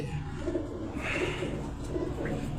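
Chinese pigeons at a rooftop loft coo in soft, repeated low rolling calls, close and steady, with a faint brighter rustle in the middle and no speech.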